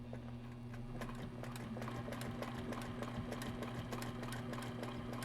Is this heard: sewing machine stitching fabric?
yes